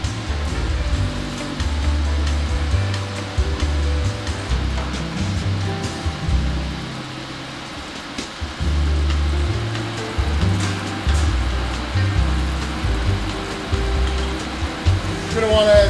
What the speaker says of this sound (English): drop them right into the oil in our pan on a medium-high heat.